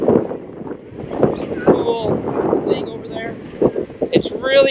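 Gusty wind buffets the microphone with a low, rumbling roar while people talk over it, on a seaside pier at Lauderdale-by-the-Sea as a storm blows in.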